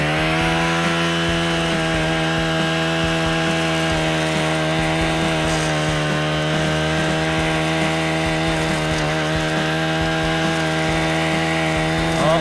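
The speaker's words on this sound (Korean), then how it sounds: "이번엔 바로 억센풀로 제가 한번 잘라 볼게요" A trimmer blade on a brush cutter tears through tough, wiry grass. The engine drones steadily and loudly the whole time with a strong harmonic whine, and a faint rough rasp comes from the cut.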